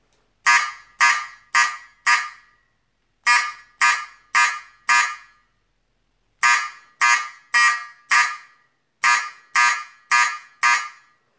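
A fire alarm system under test sounds code 4444: four sharp horn blasts in a group, repeated four times with pauses between groups, loud and harsh.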